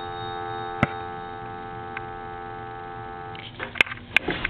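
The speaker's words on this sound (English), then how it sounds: "Dial tone." A steady, droning dial tone from a Western Electric rotary telephone hums continuously, with a couple of faint clicks and some handling noise near the end.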